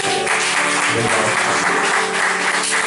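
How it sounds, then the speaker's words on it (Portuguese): Applause from a congregation at a home worship service, a dense, steady wash of clapping that fills the whole moment at constant loudness, with no talk over it. "Uma salva de palmas."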